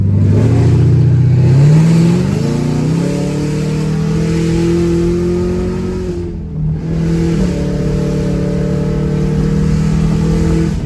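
A Chevrolet Camaro ZL1 fitted with Kooks long tube headers and a new intake revs hard on a dyno, its loud, sustained engine roar climbing in pitch and dipping briefly midway before surging again.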